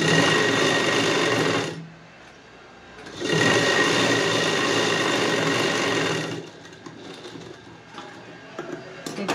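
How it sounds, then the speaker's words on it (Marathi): Sewing machine stitching a lining to a puff sleeve border with a half-inch margin, running loud and steady in two long bursts separated by a brief pause, then stopping to quieter handling noise. "इथं अर्धा इंच एवढं मार्जिन सोडून आपल्याला इथं शिलाई मारून घ्यायची आहे"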